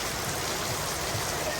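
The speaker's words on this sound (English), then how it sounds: "we're stuck in the rain right now" Rain falls steadily on Bourbon Street in New Orleans, making a continuous, even hiss of drops on pavement and surfaces, close and unbroken for the whole stretch.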